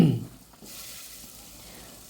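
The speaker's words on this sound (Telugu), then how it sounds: "ఈ పచ్చిమిర్చి కొంచెం వేగిన తర్వాత ముక్కలు వేసేయడమే ఇంక అందులో." Green chillies and vegetable pieces dropped into hot oil, a brief sharp burst at the start that settles into a soft, steady sizzle, close and without talk.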